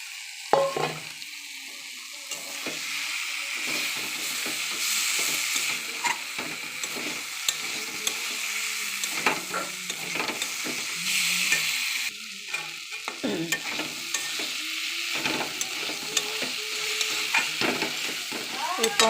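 Long beans, potato, eggplant and tomato fry with garam masala in a pan, giving a continuous close sizzle broken by frequent scraping stir strokes, with no talking.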